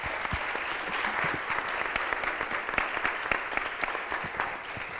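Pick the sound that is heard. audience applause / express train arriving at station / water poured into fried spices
audience applause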